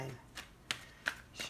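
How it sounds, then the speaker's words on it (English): Tarot cards are shuffled by hand in a few quick, rhythmic riffles, close and distinct in a quiet room. "I'm going to be pulling 3 cards for each."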